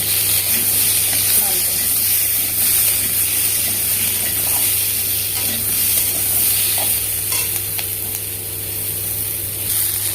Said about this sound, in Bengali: লবণ দিলাম, অল্প হলুদ, এটাকে ভেজে নেব।